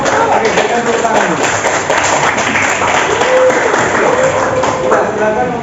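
A classroom of students claps for a group presentation, a dense, somewhat uneven patter of many hands mixed with voices chattering underneath.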